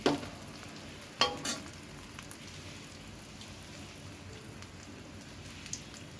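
Eggplant slices frying in hot oil give off a steady, fine crackle like light rain, with a couple of sharper clatters early on, moderately close and with no voices.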